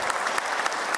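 Brief burst of audience applause at a formal solemn session held in honor of a Methodist church, dense steady clapping heard alone for about a second.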